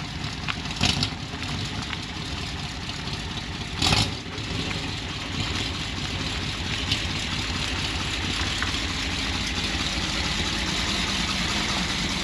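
An old Chevrolet square body truck engine runs at a steady idle, a continuous close rumble with a couple of brief louder bumps, no talking.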